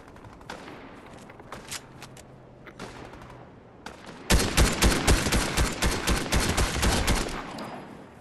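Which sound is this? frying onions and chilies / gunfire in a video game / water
gunfire in a video game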